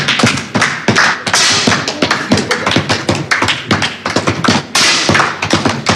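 A rapid series of sharp pistol shots at a shooting competition, many cracks and thuds close together in quick succession, loud and near with little pause between them.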